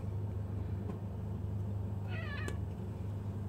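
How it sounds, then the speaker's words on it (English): A cat lets out a single wavering meow partway through, fairly faint, over a steady low indoor hum and rumble, with no speech. "Here we go with the cat again."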